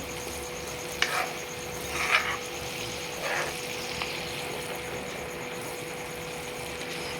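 Homemade ghee simmers in a pan, giving a faint, steady low bubbling hiss with a few soft pops and crackles scattered through it, heard alone.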